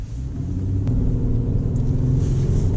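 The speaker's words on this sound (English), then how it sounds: "And the engine is pretty loud." A Mercedes-Benz E350 engine drones steadily from inside the moving car, a loud continuous low rumble with road noise that holds constant throughout, with no talk over it.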